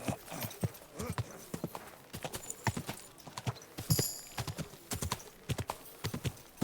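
Horse hooves clip-clop on town streets in the game Kingdom Come Deliverance 2, an uneven, fairly close walking rhythm of distinct hoof strikes, with a brief whinny partway through.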